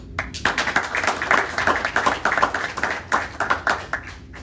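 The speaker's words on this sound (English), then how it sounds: "I'd like for you guys to give yourself one last round of applause." Graduates of a frontline supervisor training class clap in a small group, giving brisk, uneven applause at close range with a short pause in the middle.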